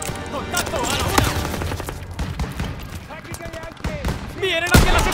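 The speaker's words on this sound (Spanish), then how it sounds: "¡Ese cañón sigue disparando!" Cannon and gunfire in the Call of Duty WWII fortress battle, with repeated heavy booms and rattling shots layered under music and shouted voices.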